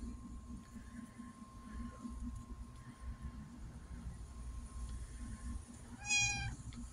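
A domestic cat gives a single short meow near the end, clear over a quiet outdoor garden background with a faint steady hum.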